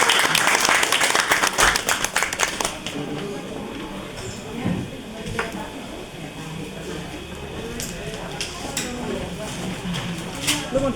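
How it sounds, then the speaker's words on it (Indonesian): An audience welcomes a speaker onto the stage at a table talk event with loud applause at first, then the clapping thins into scattered claps and murmuring voices. "kita sambut dengan meriah dan antusias tepuk tangannya"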